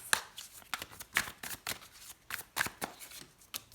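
Close, crisp bursts of tarot cards shuffled and drawn by hand, sharp riffles and flicks spaced irregularly over a quiet background, with no speech.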